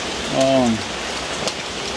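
Steady rain falls and patters on surfaces in a constant, close, broadband hiss, and a voice briefly sounds over it.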